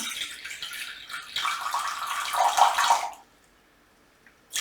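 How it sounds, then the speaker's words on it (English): Drinkable water pours steadily into a container sitting on a kitchen scale, a close splashing stream that swells louder before stopping abruptly after about three seconds, with a faint clink at the end. "I'm going to put about 6 ounces of water in here."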